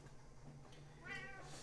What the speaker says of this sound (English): Here's a rare appearance of Tora. It's usually Suki. Hello. Meow